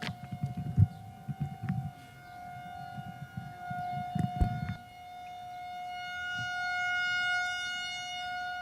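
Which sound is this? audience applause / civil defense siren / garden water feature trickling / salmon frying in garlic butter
civil defense siren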